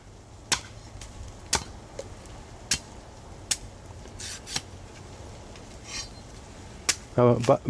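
Fresh coconuts being hacked open with a blade, several sharp isolated chops spaced a second or so apart, then a flurry of quicker knocks and scraping at the end, recorded outdoors at a coconut grower's place.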